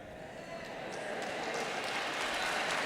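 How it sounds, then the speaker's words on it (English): An audience at a live conversation event breaks into applause. The dense wash of clapping swells steadily and stays soft and distant throughout. "That's food getting a round of applause"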